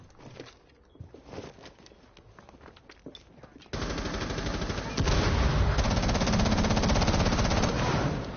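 Rapid automatic gunfire from the video game Rainbow Six Siege, loud and continuous after a quieter stretch, with brief bursts stacking into sustained firing and faint voices in the background.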